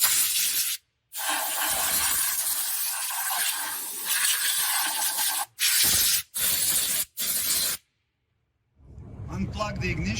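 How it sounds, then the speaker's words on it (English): Compressed air hisses in loud, sustained bursts over the valve covers of a 2010-2015 Lexus RX350 engine, one long blast followed by several short ones, then silence and a brief rustle. "Blow out any dust and debris that may have accumulated on top of the valve covers"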